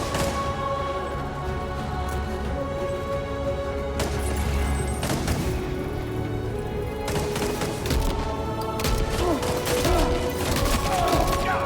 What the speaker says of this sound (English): he's shooting at me and I can't fucking shoot him